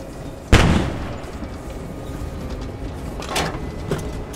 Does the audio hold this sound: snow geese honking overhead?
no